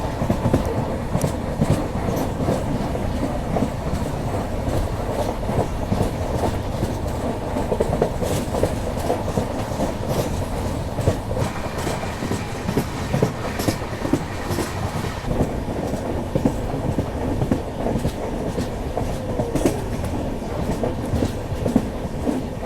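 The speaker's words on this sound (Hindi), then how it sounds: "जल्दी अपनी ट्रेन पहुँचने वाली है पूना जंक्शन" A passenger train runs steadily on rails through rural Maharashtra toward Pune Junction, a continuous close rumble with clickety-clack wheel beats and faint squeals, no voices.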